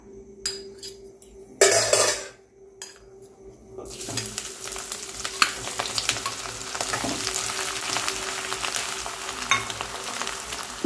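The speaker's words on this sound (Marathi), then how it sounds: "मीडियम आचेवरतीच हे मसाला आपण तेलामध्ये फ्राय करून घ्यायचा आहे." Ground masala frying in oil with bay leaves on medium heat, starting with a few clinks and a sharp burst as it hits the pan, then a continuous close sizzle with scraping stirs and no talk.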